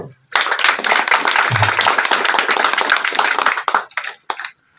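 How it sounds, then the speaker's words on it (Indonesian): Audience applauding at a Navy fleet command event in Sorong: loud, dense hand clapping that starts abruptly, holds steady for a few seconds, then breaks into scattered last claps before stopping. "Tepuk tangan dong."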